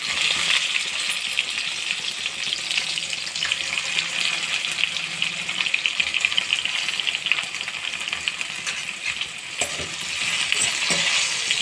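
Okra goes into a pan with popped mustard seeds and curry leaves, frying with a bright, continuous sizzling hiss, with a few stirring knocks toward the end.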